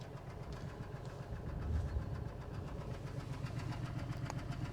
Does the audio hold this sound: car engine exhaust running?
yes